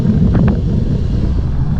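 Wind buffets the microphone on a bike ride along a Great Lakes waterfront trail, a continuous loud low roar with no talking.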